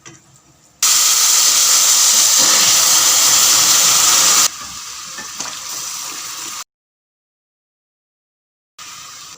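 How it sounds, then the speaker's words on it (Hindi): Hot sugar syrup poured into roasted semolina for suji halwa, a loud, steady sizzle and hiss that sustains for several seconds, drops to a softer bubbling, then cuts to silence before a faint return. "अब इसको हम इस सूजी में डालते हैं।"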